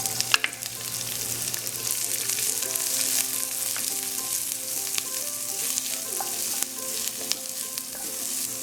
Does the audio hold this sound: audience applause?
no